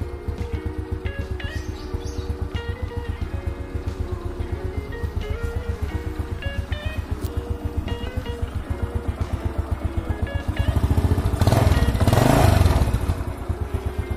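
A 1991 Honda Astrea Grand motorcycle engine idling smoothly nearby, a steady even putter with a brief rise in level near the end and faint birds chirping in the background.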